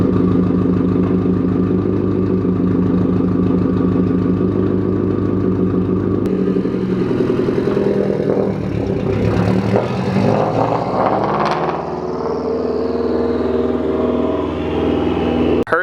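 A 2011 Audi B8 S4 idles loudly up close, then revs hard in a rising, sweeping run before dropping back to a rough idle.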